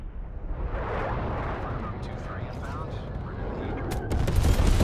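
Dense, continuous rumble of artillery strike explosions and gunfire in Call of Duty Cold War on a Miami beach map, booming throughout with a heavier burst near the end, under a speech-like layer.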